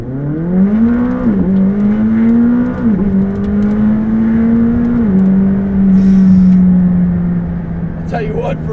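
A McLaren 600LT coupe launches hard from launch mode with its engine climbing through several rising sweeps, each broken by a quick upshift, loud and close from inside the car, while a voice talks at times over the roar.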